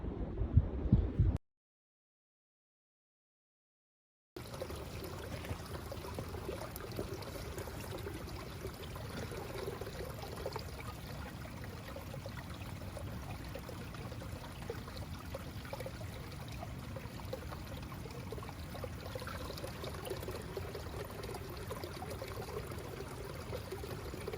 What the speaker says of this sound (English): Just refilled some water.